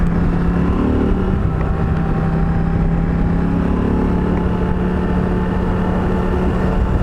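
Steady roar of wind buffeting on an adventure motorcycle at 100 km/h, a constant broadband rush with a low engine drone underneath, loud and unbroken throughout.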